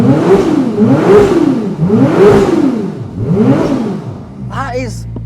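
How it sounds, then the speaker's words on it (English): A 2023 Ferrari 296 GTB coupe's hybrid engine revs hard four times in quick succession, heard loud and close from behind the car. Each rev swells and falls back, and then a brief electronic chime follows. "go to the back and listen to this. This is the new engine."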